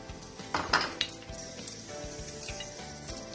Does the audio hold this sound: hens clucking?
no